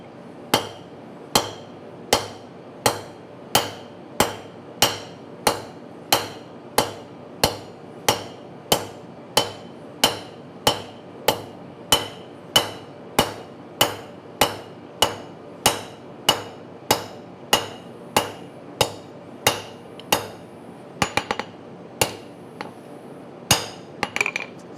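A blacksmith's hammer strikes hot steel on an anvil while forging a radiused edge, ringing out in a long, steady series of evenly spaced loud blows, about one per second, with a brief irregular cluster at the end.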